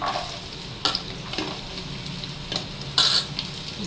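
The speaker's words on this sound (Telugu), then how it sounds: "ఆ తర్వాత ఆనియన్స్ వేసుకోండి." Onions are dropped into hot oil with curry leaves for a curry. They give a steady close sizzle, with a few louder scrapes and clinks from stirring.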